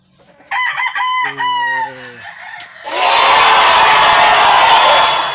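A backyard gamefowl broodcock crows loudly and close by in a few harmonic bursts, then a loud, broad wash of noise takes over.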